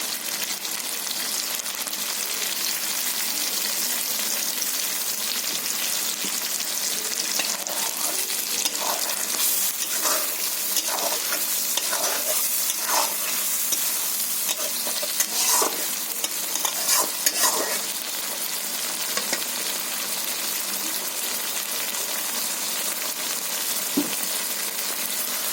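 A ground paste of mustard, poppy seeds and green chillies fries in oil in a wok for a hilsa fish dish, a long, steady, close hiss broken by scattered spits and stirring scrapes.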